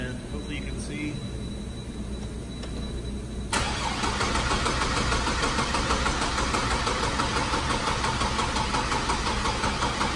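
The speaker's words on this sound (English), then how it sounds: "Crank engine." A six-cylinder car engine cranks over with the accelerator held to the floor during a compression test. After a few quiet seconds it starts abruptly and continues as a loud, even, rhythmic churn close by for the rest of the clip.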